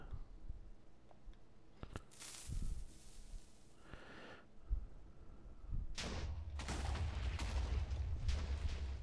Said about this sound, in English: There, that's a better explosion.